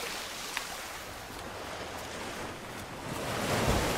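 Ocean waves wash ashore in a steady, faint broadband rush that swells slightly toward the end, with light wind and no talk.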